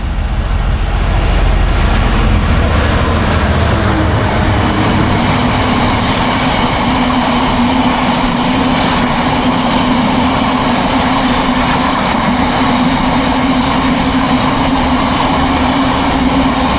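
A GBRF Class 66 diesel locomotive hauls a freight train past at close range, a loud, steady rumble and clatter of wagons rolling by without a break.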